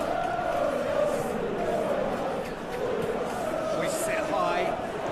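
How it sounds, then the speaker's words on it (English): Crowd noise at a football match in PES 2021, a broad, steady roar of distant spectators murmuring and applauding throughout, with a commentator talking over it. "The crowd appreciates good football all round there."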